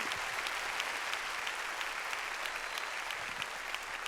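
A church congregation clapping steadily and loudly during a Spanish-language sermon, a dense continuous wash of applause with no break over about four seconds.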